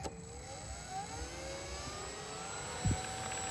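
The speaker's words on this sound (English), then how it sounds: "Just listen how smooth that engine is." An FMS Stuka 1400mm RC model airplane's electric motor runs smoothly with a steady whine that shifts slightly in pitch, heard close, with a brief thump near the end.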